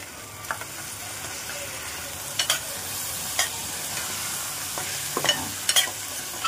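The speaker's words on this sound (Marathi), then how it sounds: "आता आपण त्याच्यामध्ये ही धुतलेली डाळ आहे ना ती घालूया। मटार घालूया।" Washed dal and green peas are tipped into a hot pan for khichdi and stirred, a soft steady sizzle broken by scattered sharp scrapes and clinks of the spoon, close and moderately quiet with no talk.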